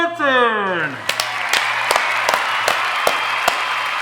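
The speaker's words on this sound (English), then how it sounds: "That was your public golf course clap, buddy." An audience applauding after a host announces a guest at the start of a golf show episode, a burst of crowd clapping with sharper individual claps standing out over it, while a voice speaks underneath.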